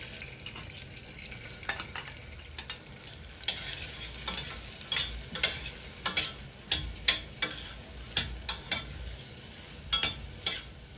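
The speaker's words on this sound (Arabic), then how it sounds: "وكعب من الزبده، نقلبها بقى لحد ما تسيح. ننزل بقى عليها بالبصل" Onions fry quietly in melted butter and a little oil in a pan, a soft continuous sizzle broken by irregular clicks and scrapes of stirring, close but faint.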